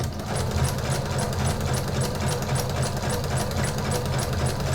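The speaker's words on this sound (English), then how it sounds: "I'm also using a walking foot on my sewing machine" A sewing machine with a walking foot stitches fabric steadily, its needle chattering in a fast, even mechanical rhythm, loud and close with no voices.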